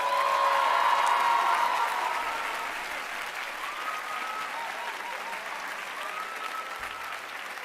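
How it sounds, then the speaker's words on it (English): An audience at the 2025 Cushing Academy commencement ceremony gives graduates a round of applause. The clapping is dense and sustained, strongest at first and then easing to a steadier, softer patter. "Please give our graduates one more round of applause."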